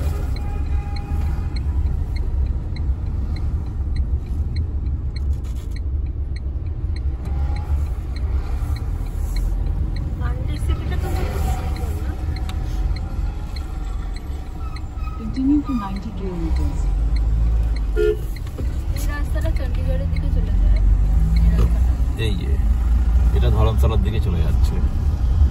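A car travelling the road out of Mandi in Himachal Pradesh, a constant low engine and tyre rumble that swells louder toward the end, with someone talking over the drive throughout.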